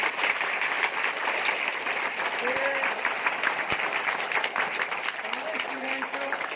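Audience applause at a school play, steady broadband clapping from a crowd sustained throughout, with faint voices over it.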